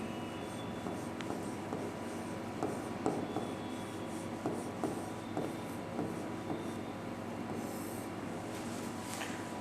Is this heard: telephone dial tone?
no